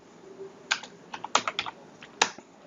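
Bursts of keystrokes clatter on a computer keyboard while JavaScript code is typed, quick uneven clusters of clicks close to the mic in an otherwise quiet room, with no talking.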